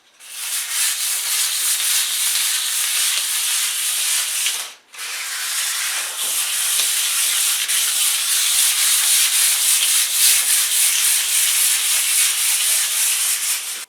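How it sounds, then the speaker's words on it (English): Very fine 300 to 400 grit sandpaper lightly sanding a refinished countertop, a steady close hiss of rubbing that holds for nearly fourteen seconds with one brief pause, no voices. "Now use a very fine 300 or 400 grit sandpaper to very lightly sand the countertop"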